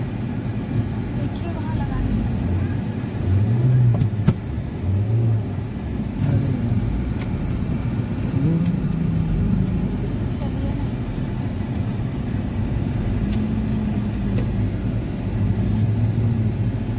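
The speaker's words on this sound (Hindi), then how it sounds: "यहाँ फाटक बंद है ये देखिए" A freight train that is not carrying coal rolls past a closed railway crossing, giving a sustained heavy rumble across the whole stretch while people talk nearby.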